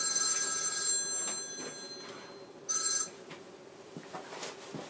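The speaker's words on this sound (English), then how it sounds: "Sorry, it was the phone." A telephone bell rings in two short bursts, a long ring at the start and a briefer one near the end, over faint room noise with no talk.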